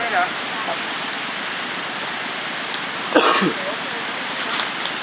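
A stream flows beside a forest waterfall in a steady, rushing wash of water that fills the whole scene. A brief close vocal sound, like a cough or a short word, cuts in about midway.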